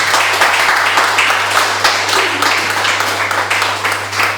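A church congregation clapping and applauding together in praise, a dense, steady wash of many hands that stays loud throughout with small swells, close and filling the room.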